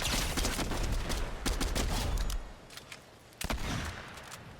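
Sustained rapid gunfire in a video game boss fight, dense and loud for a couple of seconds, then dropping away to quieter scattered shots and one sharp late burst.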